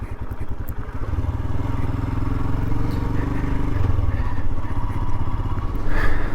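A Royal Enfield Himalayan motorcycle rides along a snowy, icy trail. Its engine gives a steady, loud, close rumble with faint rattling over the whole stretch.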